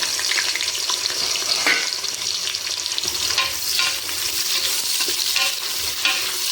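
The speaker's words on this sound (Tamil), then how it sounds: "கடலை எண்ணெய் ஊற்றினா தான் நல்ல பிரியாணி பசையாக இருக்கும். இதில் நம்ம பட்டை, லவங்கம், ஏலக்காய் இதை போட்டுப்போம். இப்போ வெங்காயம் சேர்த்துக்கலாம்." Onions sauté in peanut oil with cinnamon, cloves and cardamom for country chicken biryani, a close, steady sizzle broken by scraping stirs of a spoon in the pan, with no voices.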